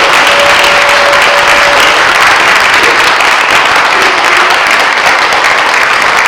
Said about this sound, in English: Can we get another round of applause for our speakers?